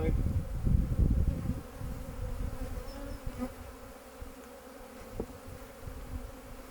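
Honeybees buzz during a summer beehive inspection in the UK, a dense, steady droning hum that fills the whole stretch close by, with no talking.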